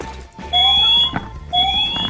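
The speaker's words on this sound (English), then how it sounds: "That's a smoke alarm." Smoke alarm in the video game Rainbow Six, sounding as two loud electronic beeping bursts, each a sharp pitched tone with a rising sweep, separated by a short gap over quiet background noise.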